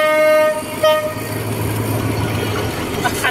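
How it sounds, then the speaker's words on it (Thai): A slow train rolls past at a port-front rail crossing, its horn blaring loudly at the start, then a steady rumble of wagons with faint clicking as it moves away. "รถไฟไปแล้วนะครับ"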